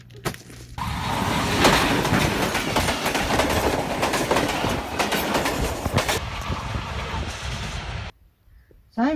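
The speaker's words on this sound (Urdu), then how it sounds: "یہ کیا ٹرین آ گئی ہے؟" A train passes on railway tracks near a bend, a loud, close rumble and clickety-clack that fills about eight seconds before cutting off abruptly.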